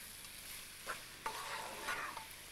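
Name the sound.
brief stir of colourful vegetables frying in pan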